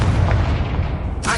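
A Confringo blasting spell in a wizard video game bursts with a dense, booming explosion that fills the short moment, followed by a brighter crackling burst near the end.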